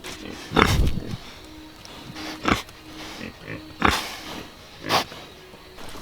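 Pigs on a farm by a well and water hose, grunting and snuffling in several short bursts spaced a second or so apart, fairly close, with a low hum between.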